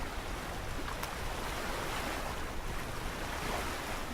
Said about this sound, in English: But we're pretty much out in the ocean now.